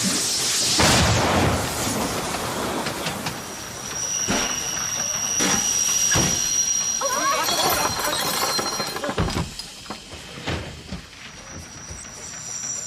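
A locomotive runs on rails during a revolutionary-era chase, heard as a loud, continuous rolling rumble with metallic clatter and a high wheel squeal, easing off near the end.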